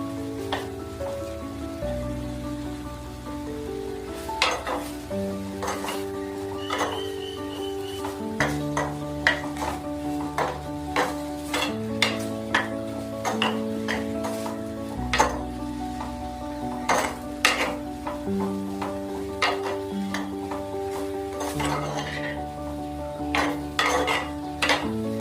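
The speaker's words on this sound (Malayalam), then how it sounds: "ഇതെല്ലാം കൂടെ ഒന്ന് ഇളക്കി കൊടുക്കണം" Fish roe fry masala with tomato and onion is stirred in a pan, a spoon scraping and clinking against the metal in irregular taps over a background of steady music.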